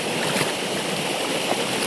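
A river running past steadily in Konkan country near the Pabare dam, with a broad, continuous wash of flowing water and no voices over it.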